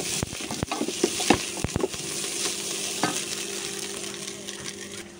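Leftover biryani reheating in a pan on a stove, a steady close sizzle under sharp scraping and stirring clicks from a utensil, no voices.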